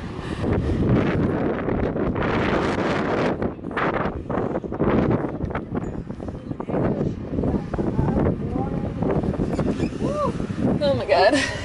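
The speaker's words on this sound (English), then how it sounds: "So windy!" Strong, cold gusts sweep across the Ring of Kerry in Ireland, buffeting the microphone with a loud, continuous rumble while voices exclaim throughout.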